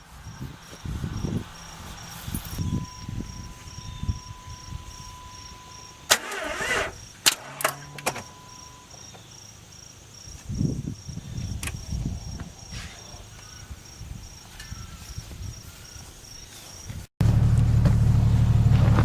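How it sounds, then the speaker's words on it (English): Jeep Grand Cherokee engine cranking and firing up after a fuel pump replacement, with repeated start attempts, loud close engine rumble and a sharp jump to a steady running roar near the end, crickets chirping faintly in the background. "I'm going to jump in the truck or the Jeep and fire it up and see"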